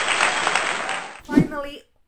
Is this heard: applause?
yes